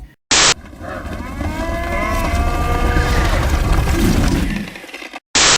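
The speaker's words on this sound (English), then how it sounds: "So they made the cows stampede at the end with the logo violently shaking." The THX logo's cattle stampede: a herd lowing and bellowing over a thundering rumble of hooves, loud and continuous, framed by short harsh bursts of noise at the start and end.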